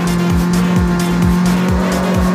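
Racing car in the CarX Street video game boosting, a loud engine drone with a rhythmic pulsing tire squeal repeating about every half second, steady and close throughout.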